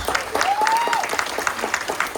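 A crowd claps at a wine shop ribbon-cutting event, a short burst of steady, moderately loud applause with a brief whistle early on.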